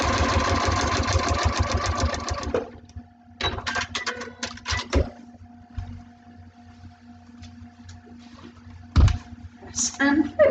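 Sewing machine stitching a foundation paper pieced quilt block along a solid line, bursts of rapid needle chatter, the longest at the start, then short runs and pauses with quiet handling noise.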